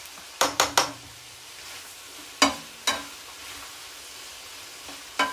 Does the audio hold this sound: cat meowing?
no